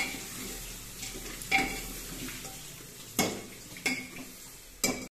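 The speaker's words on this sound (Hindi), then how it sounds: "1 मिनट तक भून लो।" Garlic paste for a chicken curry fries gently in a pan, a soft continuous sizzle broken by four sharp metallic clinks and scrapes of a spoon stirring against the pan, close by and without talk.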